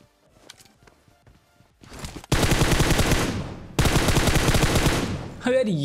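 Sustained automatic gunfire from a battle royale mobile game rattles loud and close in two long bursts after a quieter stretch of footsteps and small clicks.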